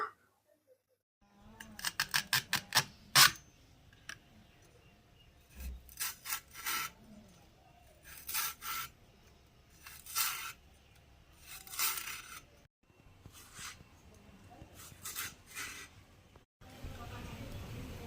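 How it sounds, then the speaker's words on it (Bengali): Elephant foot yam stalks being peeled by hand, with a run of dry rasping, tearing strokes in irregular bursts close to the mic, some sharper snaps among them and quieter pauses between. "আমি একে একে নেব আর ছোট ছোট করে ছাড়িয়ে নেব"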